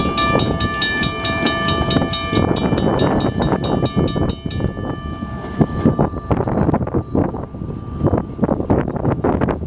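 A train hauled by GP40 locomotives rumbles past at close range, its horn sounding at first and then the clatter of railcars rolling by as it picks up speed, with wind buffeting the microphone.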